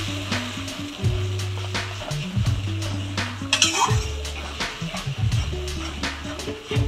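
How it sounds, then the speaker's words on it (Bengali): Spinach paste stir-fried in hot oil for palak kofta curry, with a spatula repeatedly scraping and clanking against the pan over a soft sizzle and a steady low hum, close and fairly loud. "এবার আমি ওই পালং শাকের পেস্টটা দিয়ে দিলাম। একটু ভালো করে কষিয়ে নিতে হবে।"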